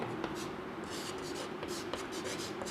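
Faint scratchy strokes and light rubbing as a trigonometry solution is written out by hand, a quiet, irregular series of short scrapes over a low background hum.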